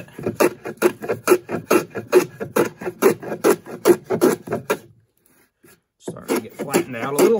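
A hand plane shaves green wood on a Roman workbench in a steady run of about a dozen rasping strokes, close and fairly loud, then a brief pause before planing resumes.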